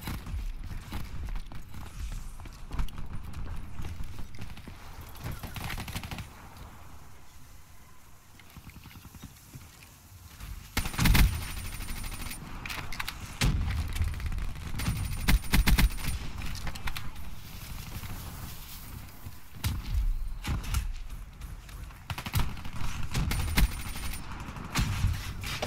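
Call of Duty Black Ops 3 gunfire crackles in scattered bursts and rapid volleys against game noise, with sharp loud peaks every few seconds across the stretch.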